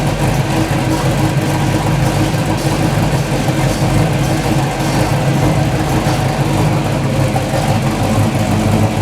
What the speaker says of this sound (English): sweet sounds of a Pontiac 455. Pypes Race Pro, dual exhaust.